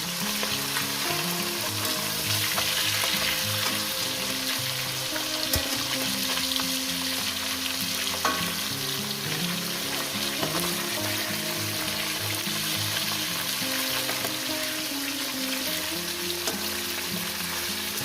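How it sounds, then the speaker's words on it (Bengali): Rohu fish heads frying in hot oil for a lentil dish give a steady, loud sizzle that fills the whole stretch, with occasional stirring clinks and no voices. "এই পিঠটা আমি এইভাবে ভেজে নিলাম"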